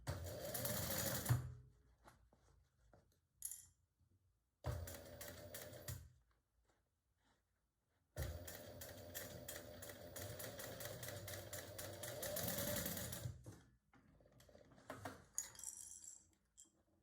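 A sewing machine stitching a tote bag, quiet bursts of rapid mechanical running separated by pauses, some short and one longer stretch of steady stitching.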